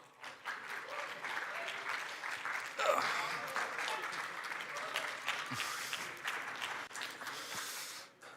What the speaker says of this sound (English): Big round of applause for Danny,